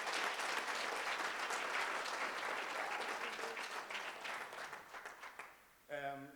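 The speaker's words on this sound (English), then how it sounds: "Can we all please give her a round of applause?" An audience gives a round of applause after an evening talk on entrepreneurship, a dense, even clapping that slowly fades into scattered claps before a voice begins speaking at the end.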